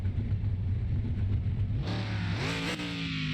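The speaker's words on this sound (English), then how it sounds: "Listen to the rumble at idle." A restored Plymouth Road Runner V8 idles with a deep, steady, lumpy rumble close by, then the revs rise briefly partway through before easing back.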